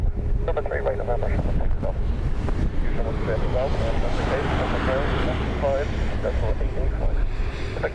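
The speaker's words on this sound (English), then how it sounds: "Yeah, Matt, you can feel the gust picking up now, and you hear it there" Strong, gusty storm wind during high winds at an airport, loud and constant microphone-buffeting roar, with faint voices and engine tones mixed underneath.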